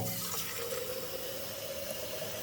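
Kitchen tap running into a pot of potatoes, a steady soft rush of water whose pitch rises slightly as the pot fills, heard alone without talk.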